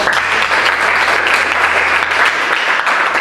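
A room full of people applauds a presenting group of automotive engineering teacher trainees, making steady, dense clapping that stays loud and unbroken throughout, with no voices on top.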